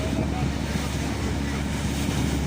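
Sea waves stirred up by a passing speedboat wash against the shore at an Aegean harbour, a steady, soft surf with wind noise on the microphone.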